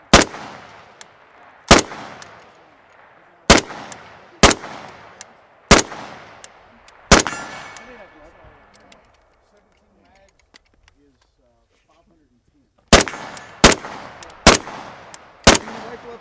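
Century Arms VSKA rifle fired outdoors in sharp, loud single shots, a burst of several early on, then a pause and a quick run of four more, each with a decaying echo; voices talk faintly between shots.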